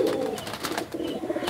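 A small Madrasi pigeon coos softly and close by in a short series of low, murmuring notes.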